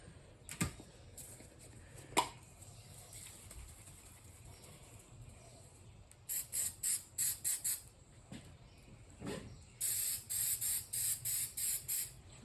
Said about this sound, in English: we're going to spray the backside of the stencil lightly so it sticks down to the surface